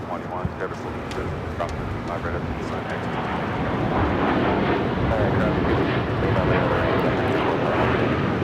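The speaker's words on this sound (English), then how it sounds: "This is Air Tahiti Nui, Flight 8, taking off to Paris on the 787-9 Dreamliner" Air Tahiti Nui Boeing 787-9 Dreamliner taking off from Los Angeles International Airport, its jet roar building from a rumble to a louder sustained rush as a voice talks over it.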